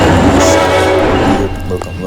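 A locomotive horn blares loud and close for about a second and a half, then fades into the rumble and clatter of a passing train.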